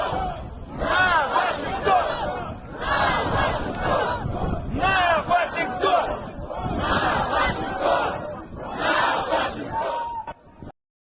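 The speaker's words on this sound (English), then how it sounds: "this is the crowd right in front of the embassy, and they walking around with basically like a mock ICBM mascot yelling "Nuke Washington,"" A large crowd shouts and chants in front of the U.S. embassy in Moscow, with loud, sustained massed yelling in repeated surges and no quiet gaps.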